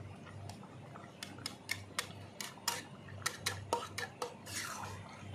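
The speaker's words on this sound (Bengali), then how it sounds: "দুটো আলু এই সঙ্গে আমি এই খুন্তি দিয়ে গলিয়ে দেবো" A metal spatula mashing potatoes in a simmering pot of fish and Malabar spinach curry: irregular clinks, taps and scrapes against the pot, coming quicker and moderately loud toward the end.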